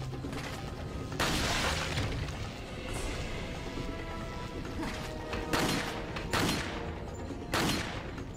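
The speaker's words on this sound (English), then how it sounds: "I'm shooting the wall." Repeated gunshots from the Wii Zapper in Resident Evil 4 slam into a wall, sounding as loud, sharp bursts with crashing impacts over a dense, noisy in-game background.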